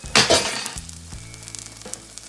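A vegetable pancake sizzling in a pan, opening with a couple of loud crackling bursts before settling into a quieter sizzle with small scattered pops and clinks.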